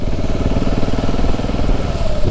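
KTM motorcycle engine running close and loud, a steady, unbroken rumble with a throbbing pulse and no pauses.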